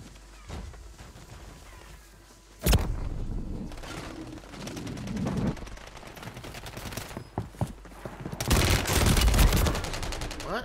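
Gunfire in Warzone 3, loud bursts of rapid shots and impacts mixed with heavy in-game action noise, building to a dense volley near the end.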